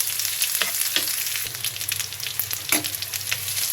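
Spice paste with ground onion frying in a hot pan, a steady close sizzle with faint stirring scrapes and no voices.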